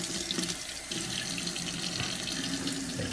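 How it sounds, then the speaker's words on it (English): A spoon rinsed under a running kitchen tap, with a steady, loud, close rush of water flowing into the sink throughout. "we're gonna rinse our spoon off so we can use it for our salt"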